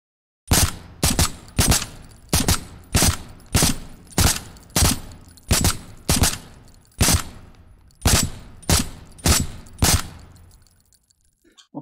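Gunshots fired at head targets in the VR shooter game Contractors, about fifteen loud, close single shots in a steady rhythm roughly every half second, with short gaps between bursts and no talking.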